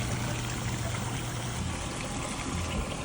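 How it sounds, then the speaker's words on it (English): Hot water draining from a water heater during maintenance, a steady, continuous pouring and trickling flow with a low rumble, close and even throughout with no talking. "The water coming out of here is hot, so be careful."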